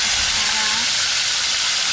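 Dalag (snakehead) fish frying in a hot pan gives off a steady, close, broadband sizzle and hiss that holds evenly for the whole moment, with no talk over it.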